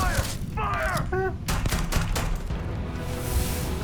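Gunfire in the space game Starfield: a quick burst of shots followed by scattered bangs under game noise, with a brief voice early on.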